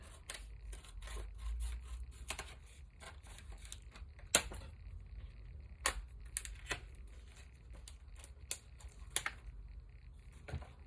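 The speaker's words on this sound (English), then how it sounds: "I'm just gonna cut it with the scissors" Quiet, close snipping and crisp clicks in an irregular run, like scissors cutting through paper, with light rustling between cuts.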